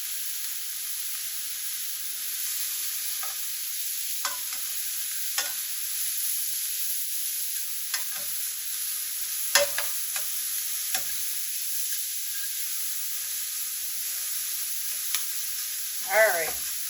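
Shrimp cook in garlic butter in a pan with a steady, fairly quiet sizzle and a few scattered soft clicks and taps, ending in a brief louder scrape.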